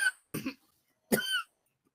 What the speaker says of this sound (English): She has asthma and she coughs all the time